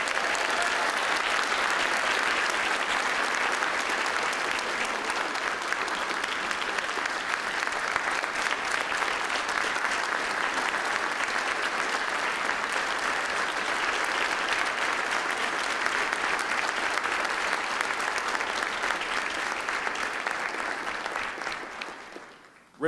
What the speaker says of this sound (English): give the voices of tomorrow a big round of applause